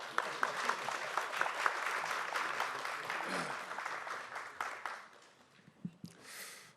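A conference hall audience applauds at the opening of a policy forum, dense clapping holding steady for several seconds before thinning out, with a brief voice near the end.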